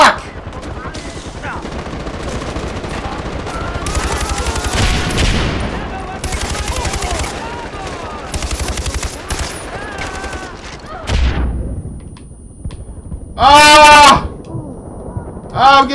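Gunfire in the Far Cry 4 video game comes in loud bursts of automatic fire with an artillery barrage nearby, and chaotic bleating-like cries and other game sounds mix in between the volleys.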